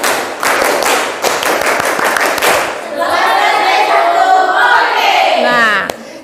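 A classroom of children claps together in a brisk, busy burst for the first half, then the clapping stops and young voices chant loudly in unison.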